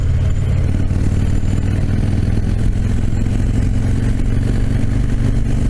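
A big bang motorcycle engine with standard stock exhaust pipes burbles steadily and loudly up close, a deep continuous rumble with no talking.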